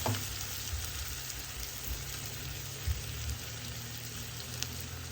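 Quiet, steady sizzle of rice frying in oil in a pan, with a few soft knocks of stirring.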